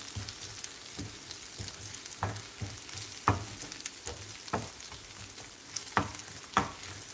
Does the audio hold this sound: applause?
no